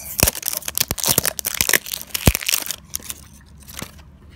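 Plastic and foil packaging of a season two LOL Surprise doll is peeled and torn open up close, with loud crinkling, crunching and ripping in uneven bursts that fade to quieter rustles.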